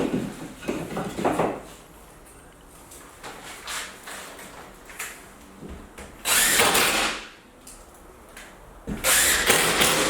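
A power drill drives screws into new drywall being hung, several short loud whirring bursts separated by pauses and quieter handling noise.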